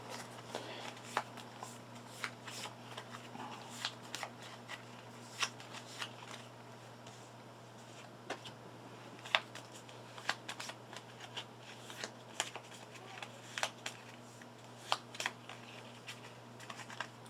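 Board game cards or bone tokens for Gloomhaven being shuffled close by, a steady papery rustle broken by sharp riffle clicks spread across the whole stretch, over a low steady hum, with no talking.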